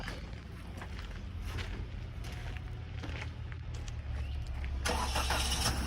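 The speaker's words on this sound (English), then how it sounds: "Started right up, no jump needed on it." A 2001 Nissan Sentra at a police towing auction engine starting: a faint cranking that catches near the end and settles into a louder, smooth idle, heard from close by without talk.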